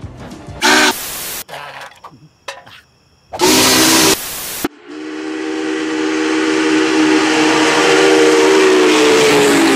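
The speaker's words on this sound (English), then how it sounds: "And Gordon blew his whistle" Loud bursts of the Union Pacific 844 steam locomotive's whistle shriek in short blasts, then a long sustained whistle tone rings out over hissing steam.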